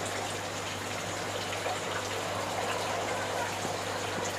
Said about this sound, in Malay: Bunyi jatuhan air